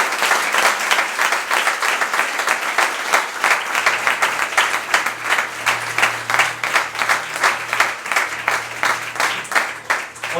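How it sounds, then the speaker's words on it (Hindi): Loud, sustained applause from a church congregation in a prayer service, many hands clapping in a fast, dense patter with a few rhythmic peaks, a low hum underneath and no speech over it. "आइए जोरदार ताली प्रभु यीशु मसीह के लिए बताएं"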